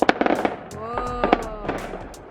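Independence Day fireworks nearby go off in a quick crackling volley at the start, followed by a few scattered pops as a voice talks over them.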